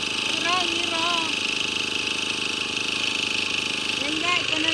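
The engine of a rice harvesting machine runs at a steady drone in a rice field, close and constant, while people talk over it.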